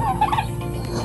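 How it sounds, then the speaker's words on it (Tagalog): Farm turkeys gobbling nearby, a short burst of warbling gobbles over a low steady background hum. "yung mga alaga natin na pabo."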